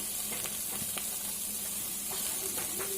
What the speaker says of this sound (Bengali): এইভাবে মশলাটা খুব সুন্দর করে কষে নিতে হবে।